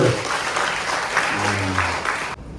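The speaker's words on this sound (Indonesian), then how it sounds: "Tepuk tangan dulu Bapak Ibu." Audience applause at a team gathering in a pub and bistro, a steady wash of clapping that holds for over two seconds and then cuts off abruptly, with a voice briefly over it.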